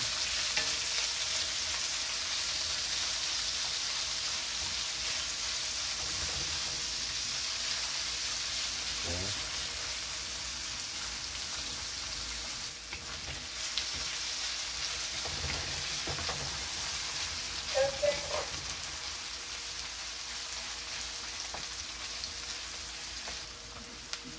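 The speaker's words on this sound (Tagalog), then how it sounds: "Ngayon, igisa natin yung sibuyas, bawang, at saka luya." Onion, garlic and ginger sauté in hot oil for squid adobo, a steady bright sizzle running throughout with occasional stirring clinks and scrapes, no one speaking.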